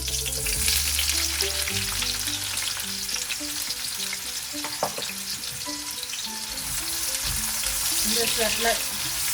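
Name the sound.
onions frying in heated oil in a pan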